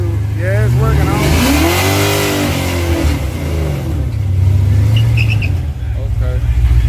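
A race car fitted with a new LT motor revs hard at a Texas track night, its engine note climbing and falling in loud sweeping pitch rises, close by, while people talk over it.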